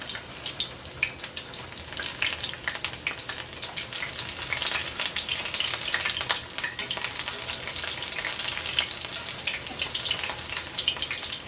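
Apple fritters in batter frying in hot oil give off a dense, steady crackling sizzle that holds close and fairly loud throughout, with no voices over it.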